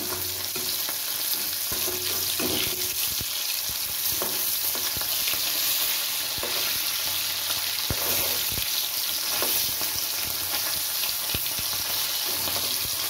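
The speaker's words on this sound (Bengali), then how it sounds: "আমার মাছগুলো ভালো করে ভাজা হয়ে গেছে।" Steady, loud sizzling of parshe fish frying in hot oil in a pan, with occasional stirring or scraping sounds, continuous throughout and no voices.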